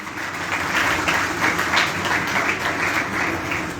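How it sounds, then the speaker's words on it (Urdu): Church congregation at a baptism sermon gives loud, enthusiastic applause, a dense continuous roar of clapping that swells and holds for several seconds with no speech. "خداوند کی شکر گزاری کرتے ہیں ایٹرنل لائف چرچ کے لیے بھی زوردار تالیاں."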